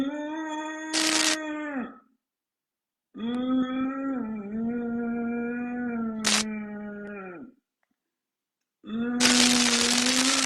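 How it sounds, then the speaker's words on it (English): Resistive Ujjayi breathing from a tightened throat: three long, strained, tonal breaths with pauses between them, close and loud. "Then when you tighten up a little bit more, you will have a sound like a resistive inhalation"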